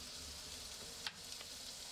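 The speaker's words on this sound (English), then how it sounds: "you can keep stir frying until light golden brown" Bacon frying with butter and garlic in a pan gives a steady, even sizzle throughout, with one brief louder crackle or clink partway through and no talking.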